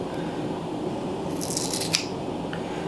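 Scissors cutting into a craft sponge at an angle, a few crisp snipping crunches in quick succession over a quiet room background.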